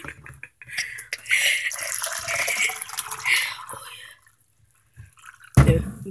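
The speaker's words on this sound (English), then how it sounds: "You gonna watch me pour some of that tea in." Tea poured into a cup gives a trickling, dripping stream close by, with soft voices around it and a louder thump near the end.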